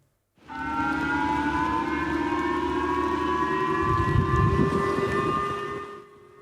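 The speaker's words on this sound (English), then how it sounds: "causing air raid sirens to go off in Tokyo" A loud air-raid siren in Tokyo, warning of a missile, sounds as a steady, droning wail that holds for several seconds before cutting off.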